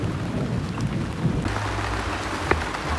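Heavy rain pours down in a dense, hissing wash, with a low thunder rumble underneath and a sharp drop or tap near the end.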